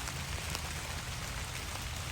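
Steady light rain falls on a cool day in the Great Smoky Mountains, a soft even hiss of drops with no voices.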